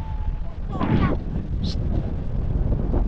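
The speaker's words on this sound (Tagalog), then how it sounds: "medyo malakas talaga yung amihan ngayon" Strong northeast monsoon wind beside a large boat buffets the microphone in a constant low roar, with a brief voice and a burst of louder gusting near the start.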